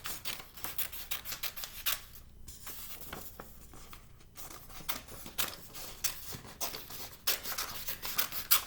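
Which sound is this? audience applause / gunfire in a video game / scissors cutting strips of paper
scissors cutting strips of paper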